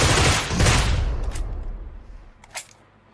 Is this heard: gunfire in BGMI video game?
yes